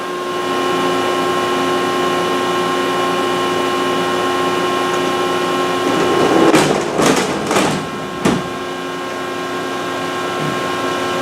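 A CNC machine cuts rigid tap adapter holder trays with feeds and speeds turned down, giving a steady mechanical drone and whine with several louder bursts of cutting noise near the middle; no voices.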